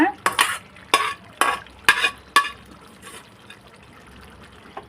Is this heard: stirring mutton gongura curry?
yes